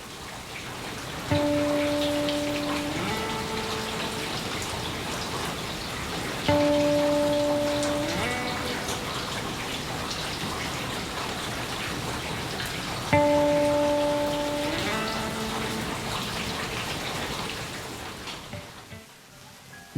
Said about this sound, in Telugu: ఆ వాటర్ ఫాల్ సౌండ్ వింటూ